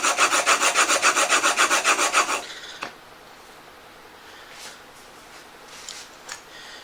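A plane blade rubbed back and forth on a sharpening stone, giving loud, rhythmic rasping strokes for about two seconds, then stopping, followed by a sharp click and a few faint scrapes at close range.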